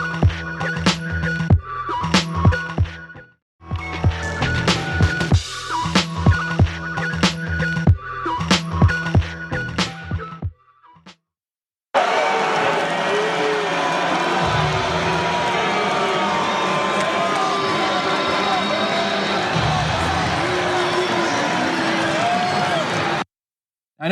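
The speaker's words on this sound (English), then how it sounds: "they're actually booing the president because that is a thing now" A crowd at a UFC event boos the president: after about ten seconds of loud, choppy sound with gaps, a dense, sustained roar of massed jeering holds steady for roughly eleven seconds before cutting off.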